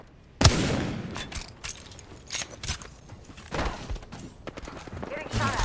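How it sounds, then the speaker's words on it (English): Video game gunfire cracks out in a sharp opening shot, then irregular bursts and scattered shots at mid distance, with voices talking in between. "Getting shot at."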